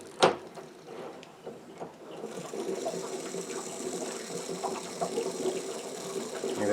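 Water drains and gurgles from a water heater tank as the heating element is being installed, a steady rushing, bubbling flow that follows a sharp initial knock and continues unbroken at moderate level.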